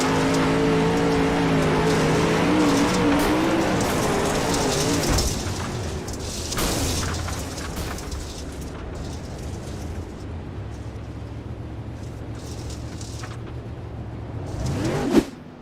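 A race car engine at high revs in a sim racing game at Cedar Lake, winding down into a crash impact, then a lower idle-like hum with scraping and rattling, ending in a sharp rising whine.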